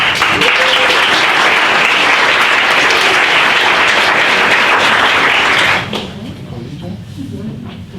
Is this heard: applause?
yes